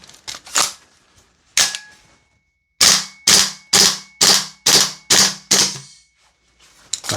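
A Salvo Precision MCX MWS gas blowback airsoft rifle fires a string of about nine loud, sharp cracks, two spaced shots followed by a quick, even run, each with a short metallic clack, with no voices.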